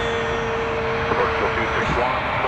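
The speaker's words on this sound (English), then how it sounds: "this is an Embraer 175, Jazz 556, headed to New York City" An Embraer 175 regional jet, Jazz flight 556 bound for New York JFK, rumbles steadily at Toronto Pearson airport, its engine drone continuous and moderately near, with a faint voice under it.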